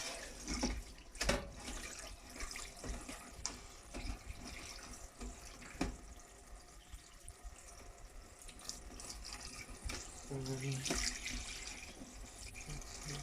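Cold water runs steadily from a tap into a bowl or sink, splashing and gurgling as freshly churned butter is rinsed under the stream.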